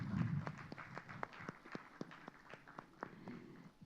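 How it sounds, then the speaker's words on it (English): The audience at a university event during the Bodh Gaya Global Dialogues gives sparse, quiet applause. Scattered individual claps sound at an uneven pace in a large, hushed room, with a faint low murmur at the start. "Please join them with a resounding sound of applause."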